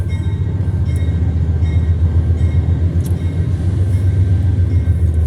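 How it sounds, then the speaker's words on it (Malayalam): A long freight train carrying containers rolls past nearby in New Jersey, a steady heavy rumble with occasional faint metallic clanks, constant in loudness throughout. "ഇത് പാസഞ്ചർ ട്രെയിൻ അല്ല ഇത് ഗുഡ്സ് ട്രെയിനാണ്"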